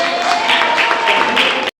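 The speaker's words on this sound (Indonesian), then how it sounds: "Ya, tepuk tangan." Secondary school students in an Indonesian classroom break into loud applause, a dense burst of clapping with some crowd noise that cuts off abruptly after under two seconds.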